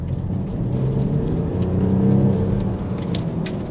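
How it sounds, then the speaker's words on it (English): A 2025 BMW X6 40d with its torquey diesel engine accelerating under throttle, a steady close low-pitched rumble and whir that swells slightly in the middle and holds alone without talk. "Let's give it some throttle here. As you can see, it's a very torquey diesel engine"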